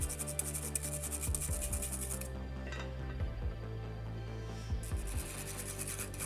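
Spoon scraping coloured cocoa butter powder through a metal sieve, faint repeated rubbing and scratching strokes over a steady low background hum.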